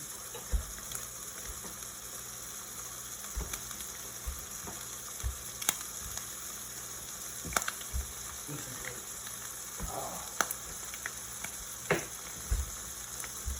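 Steady sizzling and frying hiss fills the clip, with occasional clicks and light knocks over the continuous crackle of a burger cooking in a pan.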